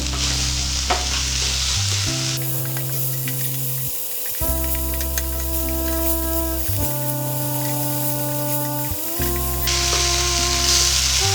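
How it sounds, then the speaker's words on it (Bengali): A spiced mixture with turmeric and a little sugar stirred in a hot pan for chicken rings: steady loud frying sizzle with continuous scraping strokes and a low hum underneath, no talking. "আবারও সব কিছু ভালো করে মিশিয়ে নেব।"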